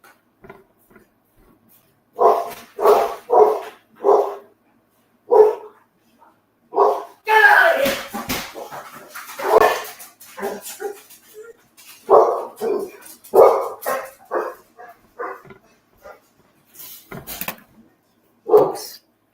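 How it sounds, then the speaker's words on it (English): Dogs bark in a yard, a neighbour's dog pestering another, with repeated bursts of barking spread across the stretch, some close and loud, mixed with a few yips and a brief whimper. "A dog in the yard bothering my dog."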